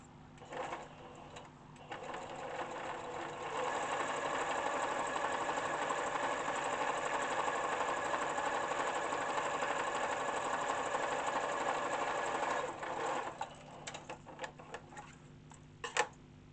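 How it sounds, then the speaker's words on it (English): A sewing machine runs a steady straight stitch along a seam of a fabric bucket hat with a 1 cm seam allowance, humming continuously for about ten seconds at close range before stopping, with a few brief starts and clicks around it. "just stitch that straight along"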